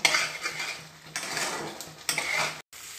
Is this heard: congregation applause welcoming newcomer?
no